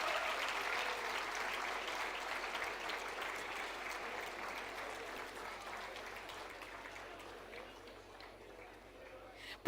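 Auditorium audience at an MBA convocation ceremony applauding, a broad, even wash of many hands clapping that stays fairly distant and slowly fades toward the end.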